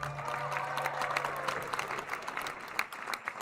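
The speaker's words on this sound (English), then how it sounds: "let's have a good round of applause for all of them" Indoor crowd applause for the teams after a high school volleyball regional final, with steady sustained clapping from a large audience filling the gym.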